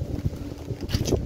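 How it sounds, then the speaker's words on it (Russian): Strong gusts of wind outdoors buffet the microphone in a low, continuous rumble, swelling and easing over about a second. "Смотри, какой ветер."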